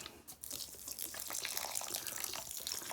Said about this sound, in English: So we're just going to pour some vinegar in.